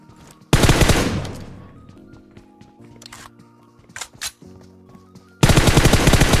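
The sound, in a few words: Groza rifle gunfire in a video game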